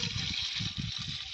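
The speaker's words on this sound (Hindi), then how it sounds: "और थोड़ा सा पानी डाल दिया।" Water pouring steadily into a pot holding ten packets of Maggi noodles, set over an outdoor wood fire in a field, a continuous close gush lasting about a second and a half with no talk.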